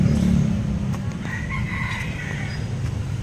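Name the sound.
rooster (barako gamecock) crowing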